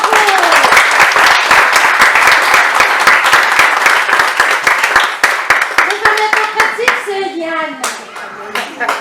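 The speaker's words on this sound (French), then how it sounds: "on applaudit très fort encore une fois" Loud, close applause fills a church, with many hands clapping rhythmically. Voices rise over the clapping as it thins toward the end, including a voice.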